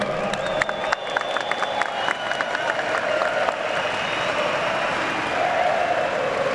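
A stadium crowd of Brazilian esports fans at a FURIA match roars and cheers loudly, with a sustained wash of applause and shouting that swells near the end and never lets up.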